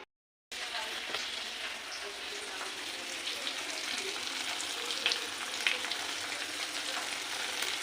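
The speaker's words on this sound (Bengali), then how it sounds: "এখন এই যে তেলের ওপর জিরে তেজপাতা ফোড়ন দিয়েছি" Cumin seeds and bay leaves sizzle and crackle steadily in hot oil in a home kitchen, a continuous close frying hiss with occasional sharper pops, no talking.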